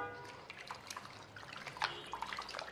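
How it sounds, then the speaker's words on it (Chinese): Pork ribs rinsed in clean water in a basin after a scrub with food-grade alkali, giving a steady close wash of splashing, sloshing water with scattered drips and handling noises. "3分钟之后加入清水，将排骨清洗干净"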